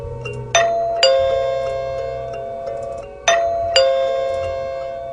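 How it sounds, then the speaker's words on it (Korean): A doorbell rings twice with a two-tone ding-dong, each chime bright and ringing out before the second pair follows a few seconds later, with nothing else in the room. "초인종이 울렸다."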